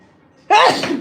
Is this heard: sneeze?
yes